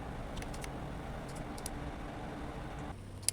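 A custom gaming PC with added fans and standard or quiet fan settings runs with a steady, moderately loud whooshing hum, constant throughout with faint clicks and no talking.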